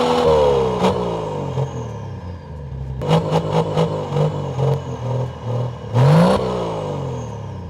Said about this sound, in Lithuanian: einame paklausyti, kaip skamba automobilio išmetimas